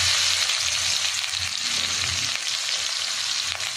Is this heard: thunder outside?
no